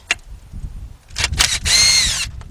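Power tool backing out 5mm hex bolts on a 2011 BMW 328i 3.0 with a cylinder 2 misfire, giving a few short close bursts and then a longer steady whirring run.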